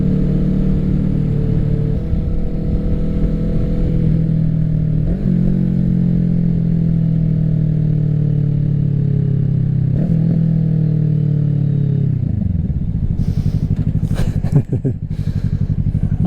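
A 2024 Kawasaki Ninja 650 with an aftermarket M4 exhaust, loud and close, holding a steady low growl through several throttle blips and gear-like shifts, then dropping away near the end.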